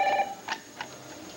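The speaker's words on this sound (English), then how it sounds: "Get the phone." A telephone rings in short, repeated electronic bursts, with one louder ring at the start followed by fainter rings, heard indoors without speech.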